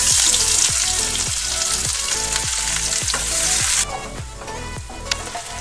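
Chopped large onion sizzling steadily in hot oil, a dense continuous frying hiss with repeated rhythmic scrapes and taps of a spoon stirring, loud and close, easing slightly toward the end with a few sharper clicks.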